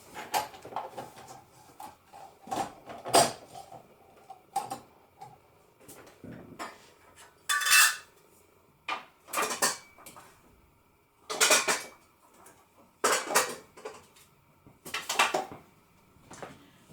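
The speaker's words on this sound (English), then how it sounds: "Just going to fix the grater in." A grater attachment being fitted onto a Tefal QB405D40 kitchen machine gives a series of close plastic and metal clicks, clatters and scrapes in irregular bursts with short pauses.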